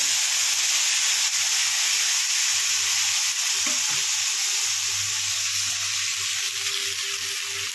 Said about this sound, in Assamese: মছলাখিনি অলপ ভাজি লাৰি ল'ম